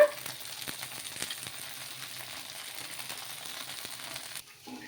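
Oil sizzles steadily on a rava dosa frying in a pan, a soft continuous crackle with faint scraping ticks close by, ending abruptly.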